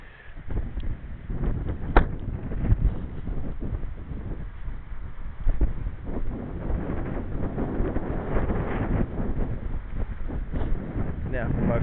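Steady low rumbling wind buffeting a microphone, continuous throughout with gusty swells, while a voice talks intermittently underneath.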